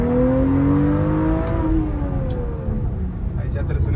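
A car engine revs loudly in sport plus mode, the rising and falling drone running steadily throughout the clip while people talk over it.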